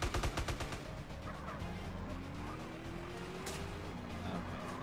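Gunfire in a cops-and-robbers video game: a rapid burst of close, loud shots at the start, then a dense, noisy game soundscape continuing without any talk.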